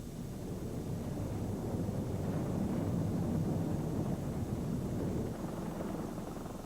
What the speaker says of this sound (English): As the helicopter got ready to hook onto the spacecraft